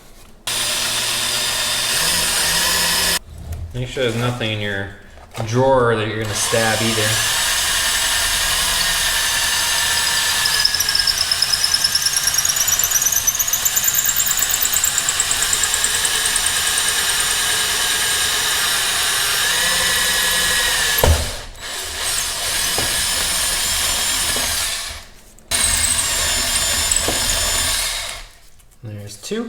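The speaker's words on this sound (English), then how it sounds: "Now we get to drilling." A power drill whirs steadily through a kitchen cabinet drawer front while handle holes are bored, running in sustained close bursts with brief stops, and a person speaks between and over the drilling.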